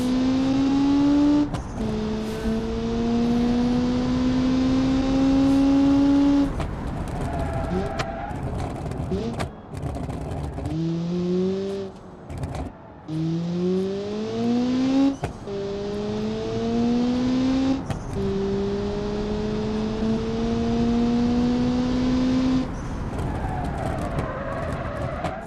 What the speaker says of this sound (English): Not a bad car to drive.